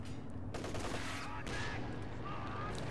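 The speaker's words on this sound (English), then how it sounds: "Great shot in from the MG34 there." MG34 machine gun fire in a World War II strategy video game, quick bursts of rapid shots over a dense rumble of battle noise, fairly quiet in the mix.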